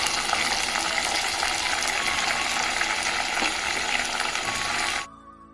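Onions fry with fresh coriander and mint for a country-chicken biryani, giving a loud, steady, dense sizzle that holds evenly for about five seconds and then cuts off abruptly.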